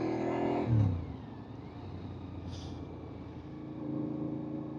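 Suzuki SV1000S V-twin motorcycle engine with a short throttle blip that rises and quickly drops back to a low idle rumble, quiet and close.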